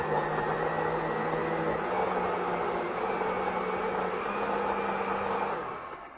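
A countertop blender runs steadily: a continuous close whirring motor with a tonal hum and a slight pitch shift midway, trailing off at the end, with no talking.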